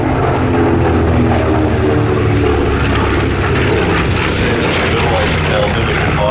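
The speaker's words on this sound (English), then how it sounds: "Quite a noisy aeroplane," A North American B-25 Mitchell propeller bomber flying past at an air show, a loud, constant droning roar of radial engines filling the whole stretch with no pause.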